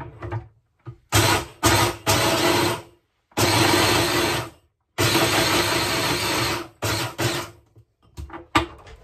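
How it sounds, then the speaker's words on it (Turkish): A kitchen blender grinds cornflakes in loud, rough bursts, starting and stopping repeatedly with several long runs and short pulses separated by near silence, close to the microphone. "Şöyle hemen blenderdan çekelim."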